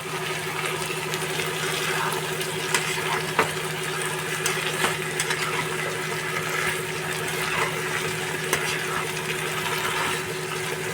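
Sesame seeds and fried potatoes sizzle in a hot pan while being stirred, a steady loud frying hiss with a low hum underneath and occasional scrapes and knocks of the spoon.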